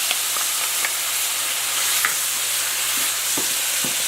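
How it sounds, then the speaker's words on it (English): Garlic and onions sizzle in a pan with ground turkey for a tomato basil sauce, a loud, steady frying hiss with occasional soft stirring clicks. "Add in the garlic, 2 tablespoons of garlic, and add in my onions as well."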